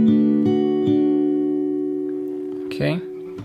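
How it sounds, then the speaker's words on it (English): Fingerstyle guitar playing open strings, a few plucked notes ringing out and decaying, followed by a short brighter strum near the end, close and clear with no talking. "For the next part, we're going to be playing open strings."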